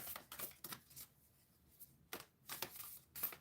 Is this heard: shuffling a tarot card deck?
yes